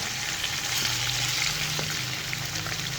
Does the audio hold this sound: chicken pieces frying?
yes